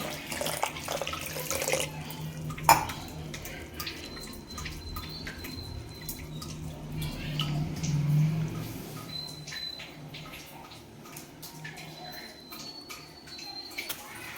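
Tap water runs and splashes into a vessel as dal is soaked for khichdi in a home kitchen, a steady close wash with faint clinks over it.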